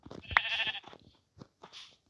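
Sheep in the video game Minecraft bleat one after another in a few short, nasal calls, with a louder cry near the start and fainter bleats trailing off, heard alone.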